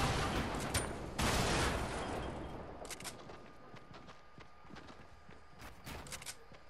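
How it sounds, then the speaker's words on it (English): Gunfire in a Fortnite match: a few rapid bursts of shots crackle early on, then fainter scattered pops and thuds follow, fairly distant and quiet overall. "There's people shooting at us."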